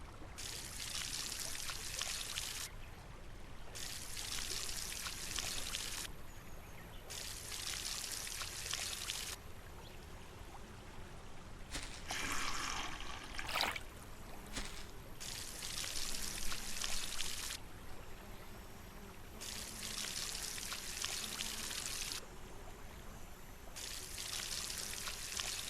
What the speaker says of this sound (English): let's get the watering can